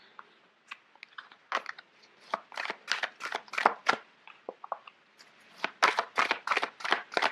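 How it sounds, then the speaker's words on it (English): Large tarot cards are shuffled in quick bursts of riffling and flicking, irregular crisp rattles with short pauses between. "Sorry, these cards are quite big. It's hard to shuffle."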